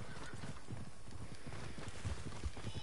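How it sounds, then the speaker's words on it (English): Steady clip-clop of a summoned horse's hooves in Red Dead Online, a rapid, even run of low thuds with a few heavier strikes, heard alone with no speech. "Now I call in another horse,"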